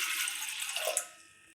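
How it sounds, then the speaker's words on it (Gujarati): Water is poured into a steel pot on a gas stove for pasta, a brief splashing stream that tapers off within about a second and a half. "ગેસ ચાલુ કરીને આપણે 2 ગ્લાસ માટે પાણી નાખશું"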